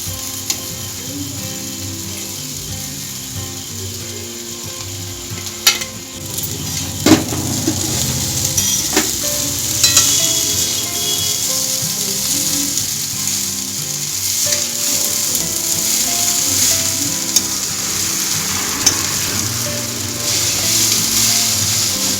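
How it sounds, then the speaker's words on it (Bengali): Boiled chowmein noodles fry in a pan for a homemade veg chowmein, with a steady loud sizzle and occasional clinks and scrapes of stirring throughout. "এরপর আমি দিয়ে দিচ্ছি সিদ্ধ করে রাখা চাউমিন"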